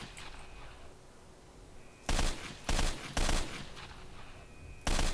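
Gunfire in the video game Stalker: Shadow of Chernobyl, four loud sharp bursts of shots spaced unevenly across the clip, each cutting off abruptly over a quiet ambient background with no voices.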